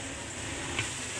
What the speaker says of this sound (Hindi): गोश्त को हम भून रहे हैं।